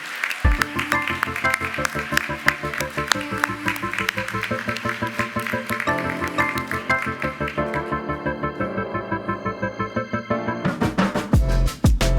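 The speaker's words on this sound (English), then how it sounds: "Give a round of applause for Dr. Donna Milovitz" Audience clapping at a 2023 women's awards event, a continuous patter of hands heard over music, with a sharper burst near the end.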